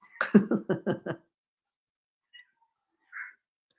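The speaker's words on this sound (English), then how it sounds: "In case you heard the cat there, she's getting fed right now." A cat gives a quick run of five or six close, excited meows, followed by a pause, one faint chirp and a final short meow, with no talking.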